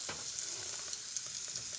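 Pundi greens fry gently in a little oil, giving a soft, continuous sizzle with faint stirring sounds and no talking.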